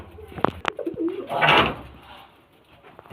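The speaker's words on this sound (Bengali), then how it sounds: "বাচ্চা আছে দেখুন খুব সুন্দর পায়রা" Pigeons, including a breeding pair of Kalanka pigeons with chicks, give a brief throaty cooing burst amid a few nearby chirps and wing or cage rustles, fairly close and moderately loud.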